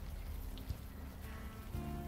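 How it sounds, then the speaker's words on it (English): Rain falls steadily in the Unavowed video game as a faint, continuous hiss and patter, with a low rumble underneath and no voices. "It is raining, so let's keep moving."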